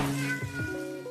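A traumatised alley cat rescued in New York City meows in a long, drawn-out wavering cry, then gives two shorter plaintive mews, all close and loud with no talk.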